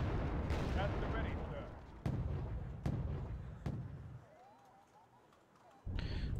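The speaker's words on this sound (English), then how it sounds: "We'll bring those mortar rolling closer." Mortar rounds in the war strategy game Wargame AirLand Battle land as a string of sharp, booming blasts, four or five heavy thumps at irregular intervals over a constant rumble of battlefield noise.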